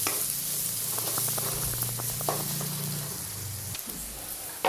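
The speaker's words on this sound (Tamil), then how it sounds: "வெங்காயம் நல்லா வதங்கிடுச்சு." Onion and tomato sautéing in a pan give a steady, close sizzle with faint stirring clicks scattered through it and a brief lull near the end.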